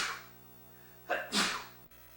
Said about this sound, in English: Sort of sneeze there.